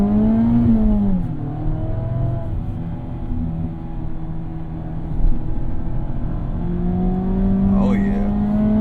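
An ND3 Mazda Miata on winter tires accelerates hard up a ramp, the engine revving high, easing off, then climbing again, loud from inside the cabin, with a voice talking over it.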